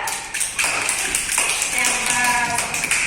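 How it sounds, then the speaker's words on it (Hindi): Children clap their hands together in a classroom during a floating-and-sinking activity, a dense run of sharp claps for several seconds with a teacher's voice over it. "ये देखो, ये भी तैर रही है ना, तालियां बजाओ।"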